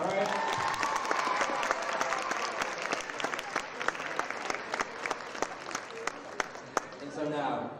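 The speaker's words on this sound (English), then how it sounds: "we got to give him another round of applause" Applause at a high school Black History Month assembly, starting as dense group clapping mixed with voices and thinning into scattered individual claps, with talk and crowd murmur running underneath.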